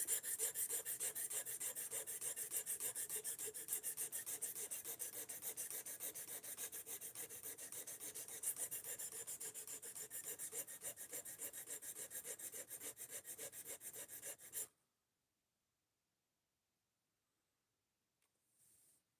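A steel knife blade scrapes repeatedly across a sharpening stone in fast, even strokes, close and steady for about fifteen seconds before stopping abruptly into near silence.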